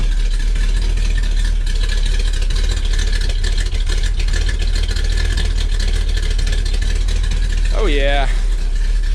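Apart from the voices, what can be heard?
1965 Corvette engine idling, exhaust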